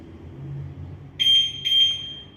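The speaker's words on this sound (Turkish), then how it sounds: "Bu sesi duyduktan sonra artık motorunuzun alarmı hiçbir şekilde sesli olarak çalmaz." An Arora Beatrix motorcycle alarm gives two short, loud, high electronic beeps in quick succession as it is switched to silent mode, heard alone and up close.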